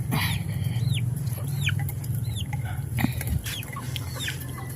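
Pet chickens clucking nearby, a series of short rising clucks and calls repeating over a steady low rumble of background noise, with a few soft knocks.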